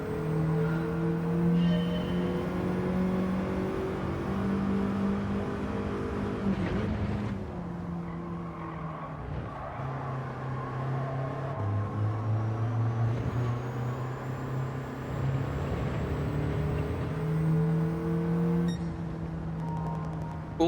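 A race car engine in Gran Turismo 7 during a National A2 licence test, holding a loud, sustained drone that shifts pitch through gear changes and corners across the whole stretch.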